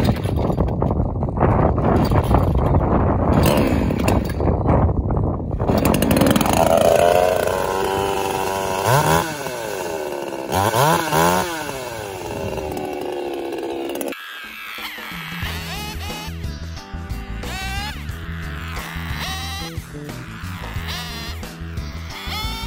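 A chainsaw starts and trims the tops of old raspberry canes outdoors, a loud, steady engine drone that rises and falls in pitch as it revs and bites, then settles into a rougher, pulsing idle near the end.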